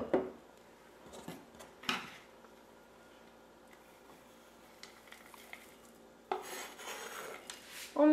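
Brownie batter made with Nutella and chocolate shavings is stirred in a bowl, giving a few scraping, clinking strokes of a utensil against the bowl with quiet pauses between, and a louder burst of scraping near the end.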